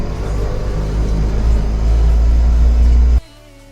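An auto rickshaw driving on a village road in Konkan, a loud steady engine rumble and road noise close by that cuts off abruptly near the end, with no talk.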